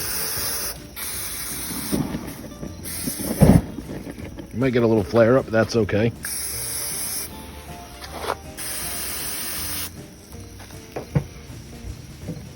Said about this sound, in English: I wanna hit these with a little bit of cooking spray